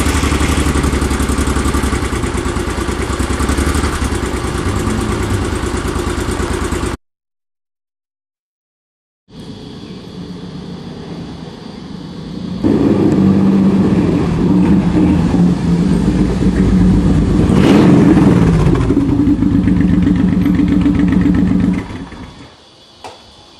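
A Honda VTX1800 motorcycle on standard exhaust pipes runs with a steady, fairly quiet idle, cuts out briefly, then returns and swells into louder revving before dropping away at the end.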